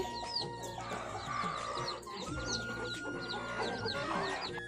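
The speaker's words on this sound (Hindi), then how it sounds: "यहाँ भी मुर्गी है" Hens clucking and chattering close by, several birds overlapping in a busy, continuous farmyard murmur.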